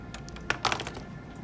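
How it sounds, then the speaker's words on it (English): A few quick clicks of typing on a regular computer keyboard at a Tricaster video production station, light taps over quiet room tone. "A regular keyboard to name the files."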